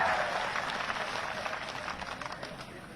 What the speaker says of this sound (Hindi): थोड़ी मंदसौर की तालियां बजाओ भैया